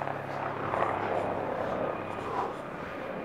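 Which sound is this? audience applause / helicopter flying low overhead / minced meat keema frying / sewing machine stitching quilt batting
helicopter flying low overhead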